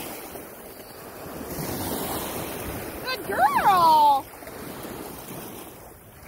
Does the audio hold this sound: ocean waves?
yes